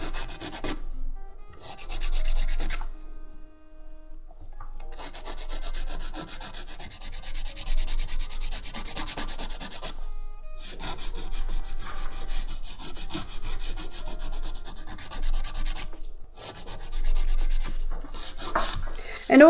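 Coarse 100-grit file working over nails or acrylic, a steady raspy scratching in repeated strokes with a few short pauses, close and fairly loud with no talking.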